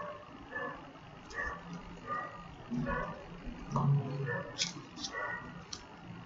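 Dogs bark at a distance outdoors, in scattered short bursts under someone speaking during a maths lecture.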